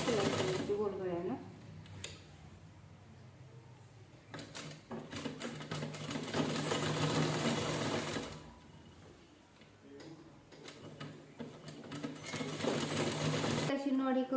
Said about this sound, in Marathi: ब्लाऊज बाहेरच्या साईडला शिलाई करायची गोल गळ्यानं